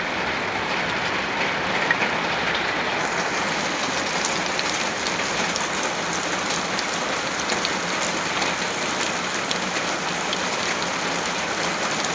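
Heavy rain pours down steadily outdoors, a dense, loud, continuous hiss of drops on surfaces that stays even throughout with no voices.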